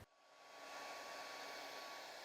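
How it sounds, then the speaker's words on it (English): Hairdryer blowing across white and clear epoxy resin to push ocean wave patterns, a steady close whooshing airflow that switches on and holds constant, with no voices. "now it's time to use the hairdryer and bring these waves to life"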